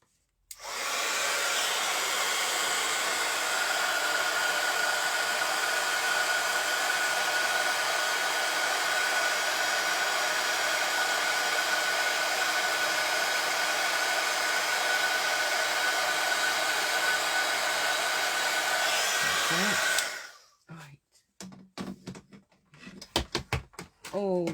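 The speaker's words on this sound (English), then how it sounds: "Bring in my heat gun." A heat gun used in card making blows with a loud, steady rushing whine for about twenty seconds, then cuts off abruptly, followed by a few clicks and handling knocks.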